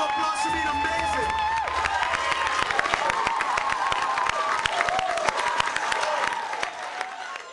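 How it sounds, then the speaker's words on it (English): A crowd at a Grand Prairie city council meeting applauds and cheers loudly and continuously, with dense clapping and a few voices and whoops mixed in. "Give yourselves a round of applause for being amazing."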